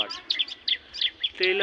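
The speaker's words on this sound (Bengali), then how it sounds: "বুঝে নিন এখানে পাখিতে ডাকছে" Small tailorbird calling from within tree branches, a series of sharp, high chirps repeated in quick bursts, moderately close, ending in a louder sustained trill.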